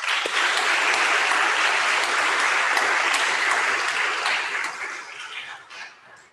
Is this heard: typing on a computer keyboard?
no